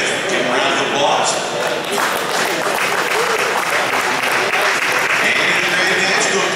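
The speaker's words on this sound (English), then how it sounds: "Trace Mitchell, give him a round of applause" Audience applause at a racing awards banquet, a sustained wash of clapping filling the room, fairly loud and continuous, with some voices mixed in.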